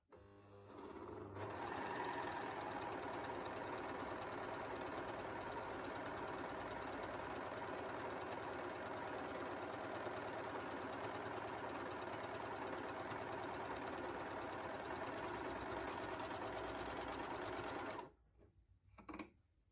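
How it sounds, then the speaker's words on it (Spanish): A Janome 8002D overlock machine sews a single layer of fabric with a loud, steady, rapid mechanical whir that runs unbroken for about sixteen seconds and then stops abruptly, with no talk. "Subiremos el prensatelas y colocaremos nuestra tela. Coseremos con mucho cuidado."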